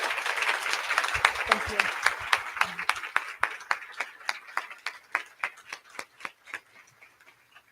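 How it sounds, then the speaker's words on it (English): Audience applause following a Q&A session with a business founder: a burst of clapping that thins into a few sparse, distinct claps, with a brief spoken thanks heard over it. "A big round of applause, please."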